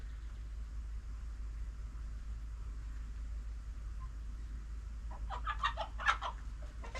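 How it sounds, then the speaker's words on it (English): A quiet outdoor hush beside a creek, then chickens break into a short burst of loud, close clucking and squawking near the end. "Shut up, birds."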